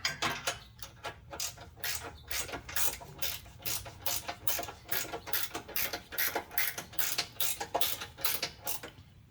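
Ratchet tightening a bolt on the front sub-frame of a Jeep Patriot, Compass or Caliber: a long run of quick, even clicking strokes, close and fairly loud, with no voices.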